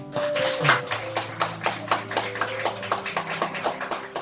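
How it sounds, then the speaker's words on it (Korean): Applause from a church congregation at a leaders' seminar, honoring the visiting pastor: a steady run of many hands clapping in a reverberant hall, with soft organ or keyboard tones sustained underneath. "건강한 공동체에 대해서 말씀을 이렇게 해주신 우리 목사님께 다시 한번 박수"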